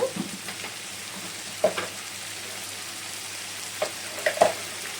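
Potato pieces sizzle in oil in a pan, producing a soft, even hiss close by, broken by a few scattered clinks and stirring scrapes.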